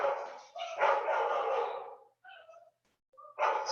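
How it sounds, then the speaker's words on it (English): Several dogs bark indoors at someone at the front door, loud close bursts of barking that pause briefly and then break out again. "now my dogs are going to bark"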